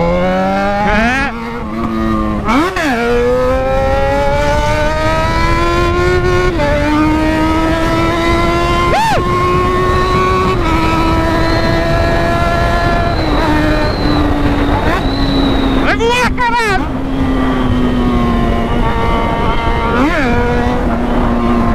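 A Yamaha XJ6 motorcycle accelerates hard through the gears, its engine note climbing steadily with several shifts, loud and close throughout.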